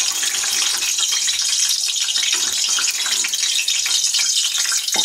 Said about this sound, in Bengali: প্রথম গরম তেলের উপর আমরা যোগ করব 1 চা চামচ পরিমাণ চিনি।